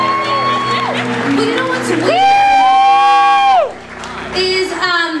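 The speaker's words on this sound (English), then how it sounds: "Give him a big round of applause." Audience applause and cheering at a club open house event, with a crowd roar and whoops rising under a loud talking and singing voice over a stage sound system, briefly dipping before picking up again.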